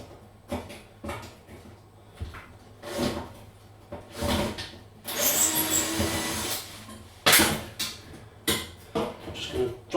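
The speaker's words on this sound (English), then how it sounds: "So we're going to remove these screws." A power screwdriver backs screws out of the panel of a Hotpoint fan-assisted electric cooker, with short whirring bursts and a longer run between clicks and handling knocks, close and alone.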